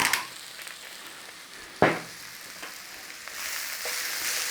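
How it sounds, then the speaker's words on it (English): Lentil bolognese with red wine and smoked paprika stirred in a pan: a soft, faint sizzle with one sharp spoon scrape against the pan, a few lighter scrapes, and the frying growing slightly louder toward the end. "Nice little stir on there, get that smokiness in there."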